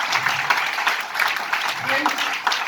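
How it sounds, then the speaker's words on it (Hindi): Audience at an education event clapping for students, a dense, loud burst of steady applause sustained throughout, with a voice briefly audible over it. "एक जोरदार ताली होना चाहिए फॉर ऑल स्टूडेंट्स"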